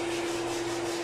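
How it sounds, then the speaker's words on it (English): Sanding dried drywall finishing compound smooth, a steady continuous abrasive rasp with a constant motor-like hum beneath, close and unbroken. "Sanded it smooth."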